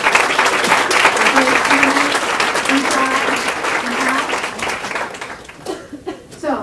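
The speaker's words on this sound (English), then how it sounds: "another round of applause for" An audience applauds students at the closing remarks of a presentation, a dense, steady wash of clapping that fills the room and thins out toward the end, with faint voices mixed in.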